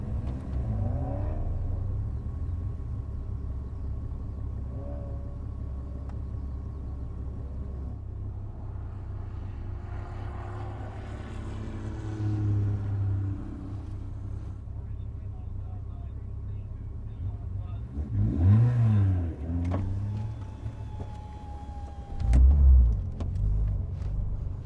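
A Porsche Cayman 987 drives an autosolo course at Goodwood, held in second gear. Its engine drones steadily from inside the cabin, then revs climb and surge toward the end, with a driver's voice talking over it.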